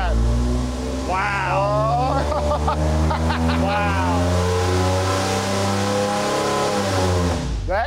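A Ford 300 inline-six engine revs hard on a dynamometer, a loud, sustained, rising and falling roar that fills the whole stretch, with excited voices shouting over it.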